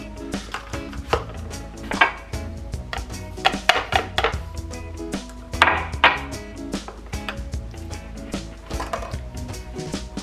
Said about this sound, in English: Gotta keep stirring this, shaking this until it